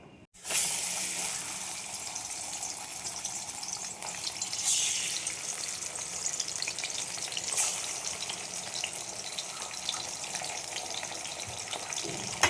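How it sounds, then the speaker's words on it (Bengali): Bata fish fry in hot oil. A loud, dense sizzle bursts in after a moment of quiet and then holds steady and close for the rest of the clip. "মাছগুলো আমি এভাবে ভেজে নেব"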